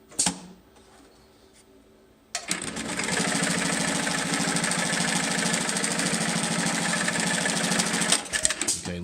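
An AMS210EN programmable industrial sewing machine stitches through two layers: a quiet whirr and a few clicks come first, then the machine kicks in and runs fast and loud with rapid, even needle strokes for about six seconds before stopping.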